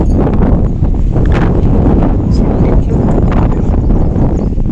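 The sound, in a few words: strong wind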